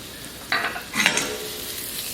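Shaved garlic and diced red onion sizzle in hot oil, with two short bursts of stirring and crackle over a soft steady frying hiss, close by and alone without voices.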